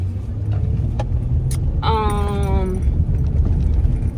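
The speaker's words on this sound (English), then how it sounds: "I had a car about to pull out" A car pulls out nearby with a low engine rumble throughout, and a brief tonal squeal rises over it midway.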